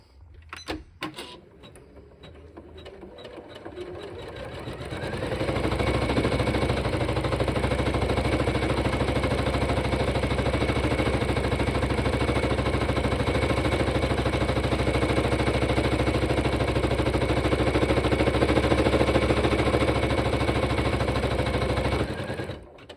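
A single-needle embroidery machine stitches a sleeve, running in a steady, loud, fast mechanical whir that holds for most of the stretch after a few brief clicks at the start, then stops abruptly near the end.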